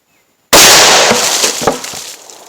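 A .45 Auto or .357 Magnum full-size Sig Sauer handgun fires into a row of water jugs: one sharp, loud close report after a moment of silence, followed by splashing and a decaying spray of water.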